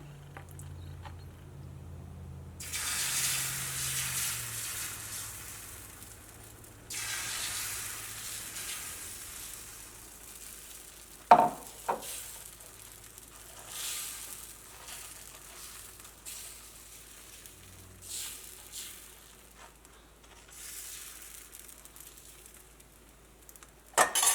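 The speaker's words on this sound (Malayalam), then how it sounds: "അപ്പോൾ നമ്മുടെ ദോശക്കല്ല് നന്നായിട്ട് ചൂടായിട്ടുണ്ട്. ഇതിലേക്ക് നമുക്ക് മാവ് ഒഴിക്കാം." Wheat dosa batter sizzles steadily on a hot dosa griddle, a broad hissing crackle that swells after a quiet start, with a few sharp clinks of utensils along the way.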